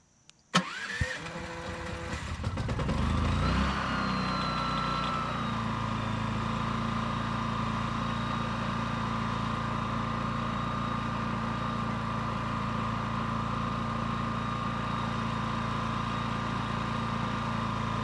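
Erayak 8000iE portable 8000-watt inverter generator cranking briefly, catching, then revving up and settling into a steady, loud, even running drone that continues unchanged.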